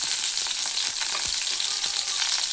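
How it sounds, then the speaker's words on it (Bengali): Green chillies, chopped tomato and ginger fry in oil in a wok, making a loud, steady sizzle with a few scraping stirs mixed in. "এগুলাকে একটু ভালো করে ভাজা ভাজা করে নেব"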